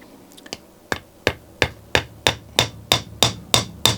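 About ten light hammer taps drive a part back into place in a Homelite 330 chainsaw's Zama C1S carburetor, sharp metallic ticks in a steady, slightly quickening rhythm, close and distinct with no talk.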